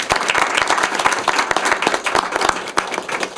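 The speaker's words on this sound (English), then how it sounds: "Let's give them a round of applause" Round of applause at a board of directors meeting for long-serving employees, dense steady clapping from a room of people, close and continuous with no talk.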